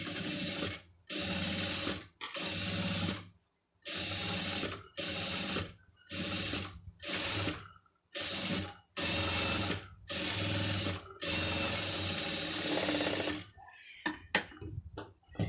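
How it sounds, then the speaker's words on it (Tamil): A sewing machine stitches lace onto fabric in about a dozen short, loud whirring bursts separated by brief pauses, with no talk. "இப்போ இன்னொரு தையல் இதில் போட்டுருவோம்."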